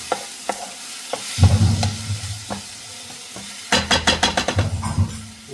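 Kerala-style chicken liver curry frying in a pan, bursts of spatula stirring and scraping against the pan over a light, close sizzle.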